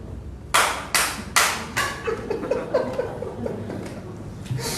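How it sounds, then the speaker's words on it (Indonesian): Three slow, loud claps at a Sunday church service, followed by softer scattered clapping mixed with chuckles and quiet laughter. "Tapi ada juga tepuk tangan."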